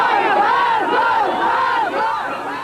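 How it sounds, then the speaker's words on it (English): A crowd of protesting workers shouts angrily in unison, loud and close, their rising and falling cries of "Shame" filling the whole stretch with no pause. "The crowd spotted the reform officials backing privatization. Shame, they shouted"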